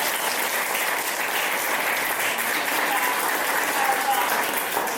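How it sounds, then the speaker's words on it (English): Steady applause from a lecture audience for a speaker, a dense even wash of many hands clapping continuously at moderate loudness. "Let's give a big round of applause."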